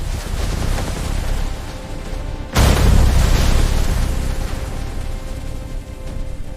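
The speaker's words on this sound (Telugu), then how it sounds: "ఉగ్రవాదుల ఆయుధ గోదాం భారీగా పేలిపోయింది" A heavy explosion bursts as a terrorist weapons depot blows up in an action film scene, a sudden loud deep boom that cuts over a windy rumbling background and then rolls on in a long, dense roar.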